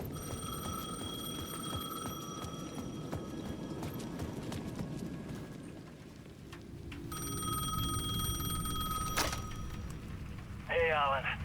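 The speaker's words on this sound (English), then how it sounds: "The payphone at the edge of the plaza was ringing again." Payphone ringing in the video game Alan Wake 2, heard twice as a bright electronic bell tone over steady rumbling ambience, with a short warbling burst near the end.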